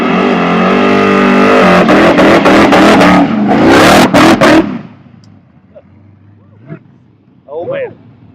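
A car doing a burnout revs its engine in loud, rising roars broken by sharp cuts, then drops away abruptly into quieter crowd noise with scattered voices and cheers.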